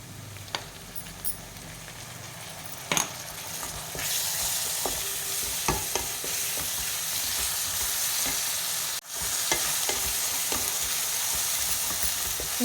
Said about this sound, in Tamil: நல்லா பச்சை வாசனை போகிற அளவுக்கு வதக்கி விட்டுக்குங்க